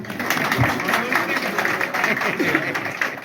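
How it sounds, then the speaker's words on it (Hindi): Audience applause at a hospital's tenth anniversary award ceremony, a continuous mass of clapping from a crowd, fairly loud and close, with a voice speaking over it. "ताली बजा सकते हैं आप।"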